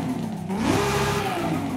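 Nissan 350Z engine fitted with a racing air filter in Forza Horizon 5, a steady throaty mid-pitched revving drone that rises slightly and holds, loud and continuous with no talk.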